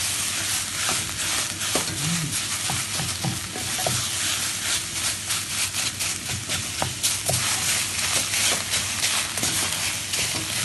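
Green Thai curry sauce being stirred in a pan gives a close sizzle with repeated scraping and stirring strokes over a constant frying hiss, and no one speaks.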